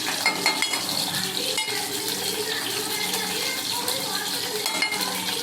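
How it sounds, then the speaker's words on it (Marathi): Ready-made fries snack frying in oil over a medium gas flame: a dense, continuous bubbling sizzle with occasional clinks of a pan, steady and close. "एक 10-15 मिनिट तेलावर फ्राय करून"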